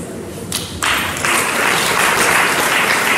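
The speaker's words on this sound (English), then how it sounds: "Please a round of applause for Prof." Audience applause at a university event, which swells in after a short pause and then holds as a broad, steady wash of many hands clapping.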